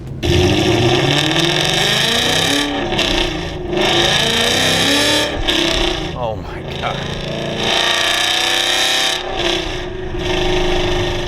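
A 2015 Ford Mustang GT with a Corsa Xtreme exhaust revs loudly and close up, surging and dropping several times, while a person briefly exclaims over the engine.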